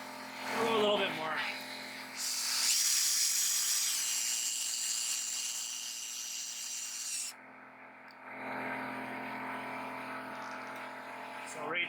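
A drill boring into a wooden dresser, whirring and grinding steadily for several seconds, then stopping before a softer rubbing resumes, with a person talking over it.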